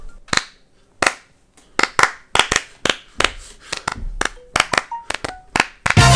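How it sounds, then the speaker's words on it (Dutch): Sharp single hand claps made to sync sound, struck one after another at uneven intervals over several seconds, close and loud, with short pauses between them. "Ik zal even klappen voor de zekerheid."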